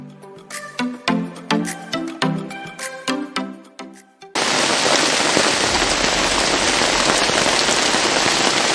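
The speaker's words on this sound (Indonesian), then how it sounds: "hujan pun langsung mengguyur kami" Steady heavy rain pours down at a mountain camp on the Palutungan route up Mount Ciremai, a dense continuous roar of drops on surfaces that starts abruptly after a stretch of separate knocking sounds and stays loud with no voices.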